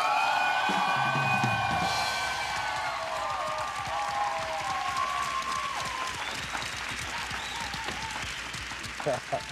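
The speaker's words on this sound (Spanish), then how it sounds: "Por favor, un fuerte aplauso para Las Vacantes." Club audience applauds and cheers for a choral poetry group from Río Piedras, with whoops and shouts over the clapping and a voice speaking through parts of it.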